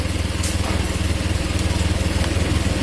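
Honda Click motorcycle engine idling as it warms up before an oil change and coolant refill, a loud, close, steady low putter with an even pulsing rhythm throughout.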